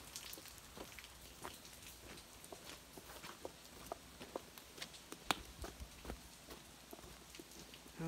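Rain falling beside a drainage canal at a work site, a steady soft patter dotted with sharper drips and taps, with no talk.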